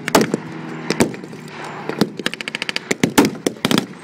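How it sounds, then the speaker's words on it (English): Anti-aircraft gunfire at a Battle of the Ardennes re-enactment in Kent, loud sharp blasts in irregular volleys with a rapid burst of repeated shots in the middle, echoing outdoors with no talk. "Anti-aircraft fire aimed at that Piper Cub fires again and again."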